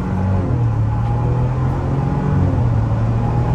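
A 2023 Ford Bronco Outer Banks SUV accelerating through a sharp turn, its engine a steady, loud low drone with a rising hum and continuous road rumble close by, with no talking.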